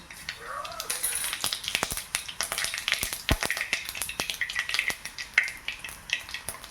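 Mustard seeds and cumin sizzle and pop in hot oil in a pan, a close, steady crackle full of sharp snapping seed pops.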